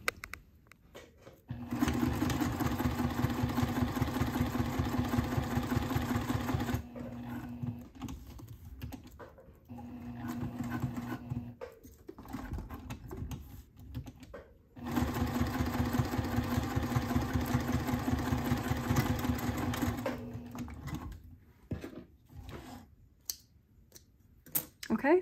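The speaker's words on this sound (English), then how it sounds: "So now I'm just going to sew around the perimeter of this, securing it to the coin pocket." A sewing machine stitches around the perimeter of a leather wallet's coin pocket in steady runs, a fast even whirring hum that pauses and resumes, close and moderately loud.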